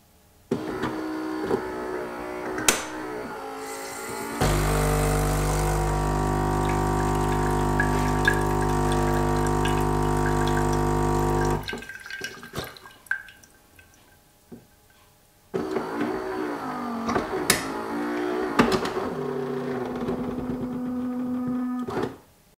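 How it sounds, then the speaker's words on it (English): A Gaggia Brera espresso machine warms up and rinses: a loud, steady pump drone for several seconds, then quieter gurgling and clicks, followed by another pumping stretch with water flowing, close and with no speech. "Press it and the machine starts to warm up and rinse."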